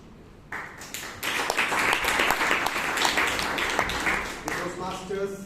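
An audience at a Toastmasters meeting bursts into applause after a brief quiet start, with steady clapping that tapers near the end while a voice begins speaking.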